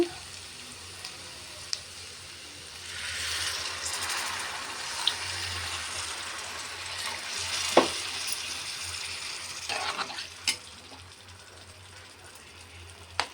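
Water poured into a pan of sizzling spiced egg curry base with chilli powder, salt and turmeric, a steady frying hiss with splashing rising and then settling, plus a few sharp clinks and stirs.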